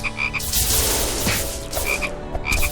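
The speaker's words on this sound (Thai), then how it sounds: "ทำไมห้องนี้กบมันเยอะเยอะ" Repeated frog croaks from the Touhou Scarlet Curiosity video game, a dense chorus of rasping calls layered over game music and effects, loud and continuous with no talking.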